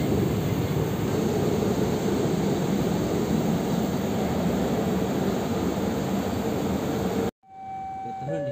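An airplane at Adi Sucipto airport makes a steady, loud engine roar that runs for most of the stretch, then cuts off abruptly.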